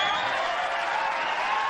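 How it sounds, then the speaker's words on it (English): A television studio audience applauds on a late-night talk show, a dense, steady wash of clapping that fills the whole moment without pause. "And shamelessly applaud themselves"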